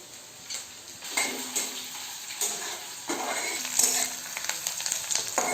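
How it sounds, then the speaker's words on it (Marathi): Chopped onions fry in a pan for upma, a soft, close sizzle with repeated spatula scrapes and stirring clinks that come and go in bursts. "कांदा चांगला फ्राय करायचा,"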